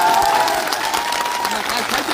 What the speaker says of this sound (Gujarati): આજે પહેલી વાત તો એ બેન માટે જોરદાર તાળીઓ થઈ જાય.